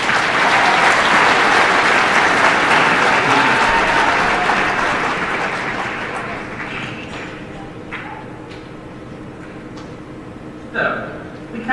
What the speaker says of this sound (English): FFA, let's give Mr. Docini one final round of applause.